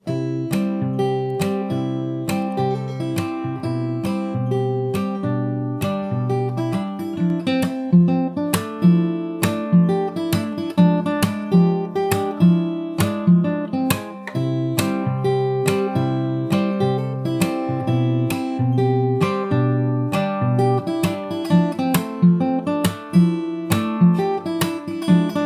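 An acoustic guitar plays a song at the song's actual tempo, with repeated plucked notes and chords in a steady rhythm, close and clear with no voice over it for about twenty-five seconds.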